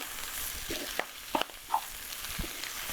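Chinese broccoli sizzles in a hot pan with a soft continuous hiss, broken by a few sharp pops and clinks of the utensil against the metal.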